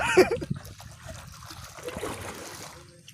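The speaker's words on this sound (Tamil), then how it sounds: "ஐயோ மழை வந்துருச்சு." Rain coming down on an outdoor watery area, with splashing and trickling water that is loudest in the first half-second, then settles into a steady, softer patter for about three seconds.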